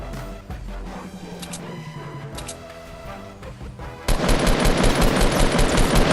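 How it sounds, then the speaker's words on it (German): Fortnite Battle Royale gunfire starts as scattered shots and game effects, then becomes a loud, rapid, continuous burst of automatic fire for the last couple of seconds. "Oh, ich werde beschossen."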